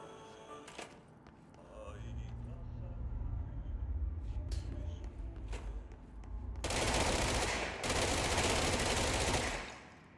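Gunfire in the video game Control: a dense burst of rapid, harsh shots rings out after quieter game ambience with a few scattered sharp hits, while a voice talks faintly in the background.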